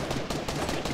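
Rapid video-game gunfire from a shooter, with several sharp shots in quick succession filling the whole second, loud and close with no talk over it.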